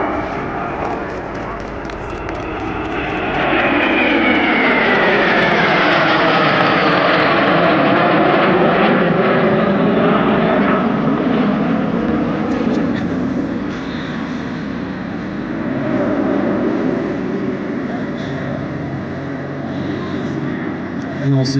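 Twin-engine jet trainer aircraft at an airshow, a loud, sustained turbine roar that rises and shifts in pitch as it passes, with a commentator speaking over it throughout.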